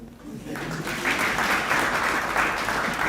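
Conference audience in Matabeleland breaks into sustained applause, many hands clapping in a dense, steady wash that swells after the first half second and holds loud throughout, with faint voices beneath.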